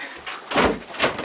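A locked door is tried in a Saw-themed physics video game, several rattling, thudding pushes in quick succession, fairly close and loud, with no voices.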